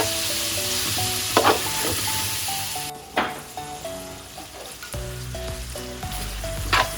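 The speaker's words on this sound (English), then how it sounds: "we're going to cook the pork for around 4 minutes just to see that it gets cooked" Pork for chow mein fries on a stove with a steady sizzle, punctuated by spatula scrapes and clanks, while faint tonal music plays underneath.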